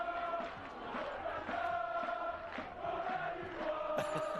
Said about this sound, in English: La Sallians are all on their feet chanting, right in the wave